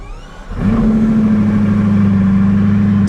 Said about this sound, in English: And then, engine start.